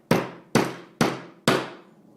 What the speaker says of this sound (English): I just take a hammer and just tap it lightly until it goes in there